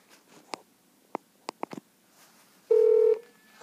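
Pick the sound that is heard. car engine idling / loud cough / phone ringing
phone ringing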